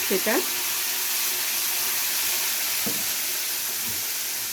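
A yogurt spice paste with ginger and garlic fries in a pan for an egg korma, giving an even, constant sizzle with a few brief clinks of a utensil stirring.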